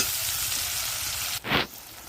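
Potatoes sautéing in a pan with a little water, a steady close sizzle throughout, interrupted near the end by one short louder burst of hissing and stirring.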